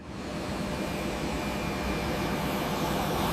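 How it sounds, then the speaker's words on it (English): A Vueling Airbus airliner on its takeoff roll, a steady loud roar of jet engines and rushing air, broad and continuous. "the Airbus lifted smoothly into the evening sky"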